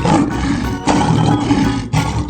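A lion in a 3D animal slide game gives loud, rough roars close up, in three sustained bursts separated by brief dips.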